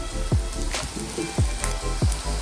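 Green chillies frying in hot oil with onions and mustard seeds for a dried shrimp masala curry, a steady close sizzle with three low thudding knocks from a spoon stirring the pan.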